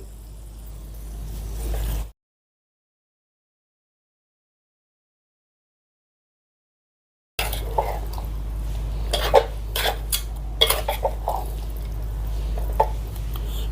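Spice powders, dried coconut and cashew powders mixed with eggplant for biryani: after a silent gap, irregular clinks, taps and soft scraping of utensils against a vessel, fairly close and moderately loud.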